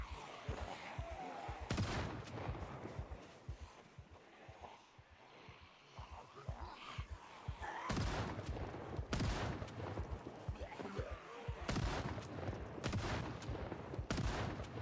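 Gunfire in the zombie survival game Project Zomboid comes as bursts of sharp shots, some in quick clusters and others single, over a busy game soundscape, fairly loud throughout.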